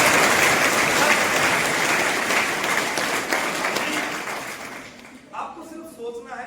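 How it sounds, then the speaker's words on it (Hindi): Audience applause at an education event in Govindgarh, a dense, steady wash of many clapping hands that gradually thins and fades toward the end, with scattered claps lingering. "तो एक बार तो खुद के लिए तालियां होनी चाहिए"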